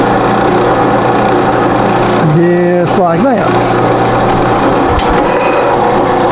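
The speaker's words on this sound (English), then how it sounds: "Then we go over to the other drill press where the center's been found, and then we just drill the holes." A drill press hums steadily with a brief rising and falling whine as the bit cuts holes in plastic sawlog hubs, and a voice speaks a few words.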